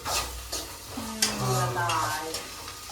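Ingredients for mint chicken sizzle in a hot pan while being stirred, producing a steady close frying hiss with scraping strokes and a brief low hum or murmur in the background.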